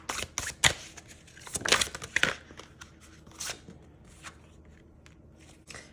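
A large tarot deck is shuffled by hand, giving several quick riffling bursts of card flutter followed by softer slides and taps, close and fairly quiet, with no talking.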